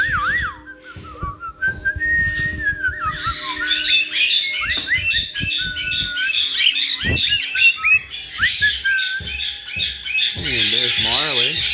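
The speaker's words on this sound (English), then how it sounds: "Hello, Spikey Bird" A pet bird squawks and whistles in bright, repeated chirping bursts, fairly loud and close. A person's voice speaks briefly near the start.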